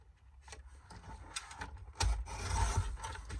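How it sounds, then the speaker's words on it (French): A paper trimmer slices through a sheet of card: quiet sliding and clicking mechanism sounds lead into a louder scraping cut partway through, close up, with no speech. "Je prends mon massicot, je fais déjà ma découpe ici."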